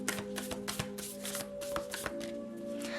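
Tarot cards being shuffled and drawn for a Leo reading: a run of quick, crisp riffling flicks and taps close up, over a faint steady background hum.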